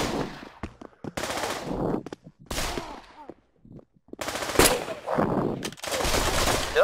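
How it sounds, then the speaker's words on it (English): Sniper rifle fire in the VR shooter game Pavlov: several sharp, loud gunshot bursts separated by short quiet gaps, with some reverberant tails. "The sniper rifle."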